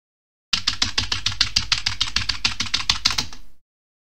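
A Vooka red switch gaming keyboard is typed on in a quick, even run of about twenty crisp keystrokes that starts abruptly and stops after three seconds, close and clear with no voices.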